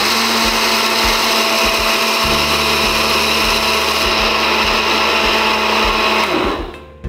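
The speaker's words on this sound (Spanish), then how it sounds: "vamos a probar una de las velocidades continuas ya para terminar de hacer el licuado" A Taurus Trinity Easy Fit blender with a 1.5-litre glass jar runs at a continuous speed while making a smoothie. Its loud, steady motor whine holds for about six seconds, then cuts off abruptly near the end, with no talking.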